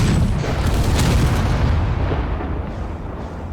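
Weapons fire and explosions from the Space Engineers game, where a Northwind cannon keeps shooting, come through as a dense rumble of booms and blasts that stays loud before slowly easing off.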